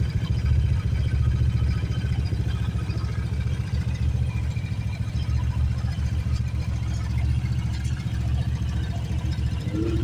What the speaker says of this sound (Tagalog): tahimik yung makina mga idol no?